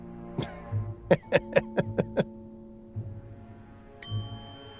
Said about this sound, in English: There's really no need to ring that bell when I'm standing here.